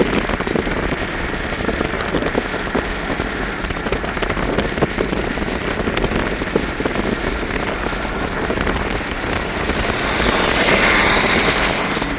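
Heavy rain pours steadily onto hard surfaces, a dense continuous hiss of drops that swells slightly louder near the end.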